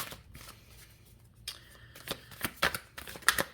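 Tarot cards being shuffled by hand, a run of soft papery riffles and flicks building to sharper snapping bursts toward the end, close and fairly quiet with no talk.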